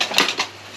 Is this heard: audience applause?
no